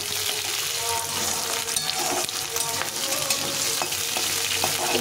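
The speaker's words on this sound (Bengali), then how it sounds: "প্রথমে আলুটাকে একটু ভাজা ভাজা করে নেবো" Potatoes frying with ginger and green chilli in a pan for a mixed vegetable dish, a steady close sizzle with occasional stirring clicks and scrapes running throughout.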